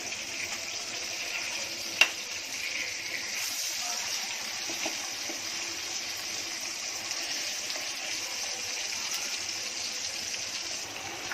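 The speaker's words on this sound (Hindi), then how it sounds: "ये देखो अपनी मच्छी पलट रही है।" Fish fries in a pan for a Konkani seafood meal, giving a steady close hiss of sizzling with one sharp clack as it is flipped. No one talks.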